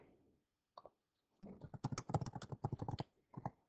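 Quick keystrokes on a computer keyboard as a short folder name is typed, a couple of isolated taps followed by a rapid burst of crisp clicks and a final few presses, close and dry with no talk.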